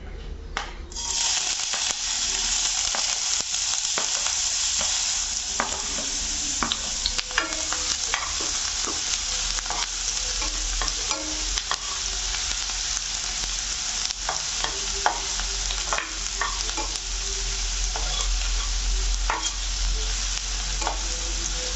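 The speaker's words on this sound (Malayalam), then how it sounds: "ഇവിടെ ചൂടായ പാനിലേക്ക് ഏകദേശം 1 ടേബിൾ സ്പൂൺ എണ്ണ ഒഴിച്ചിട്ടുണ്ട്. ഇതിനകത്ത് നമുക്ക് ആദ്യം സവാള ഇട്ട് കൊടുക്കാം." Chopped onion frying in about a tablespoon of hot oil in a pan, with a continuous loud sizzle and frequent scraping stirs close by, and no talking.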